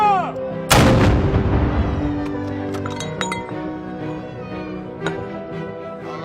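A single loud, close gunfire salute bursts out at a liberation celebration, its blast ringing and echoing away over several seconds amid faint crowd murmur and scattered small clinks.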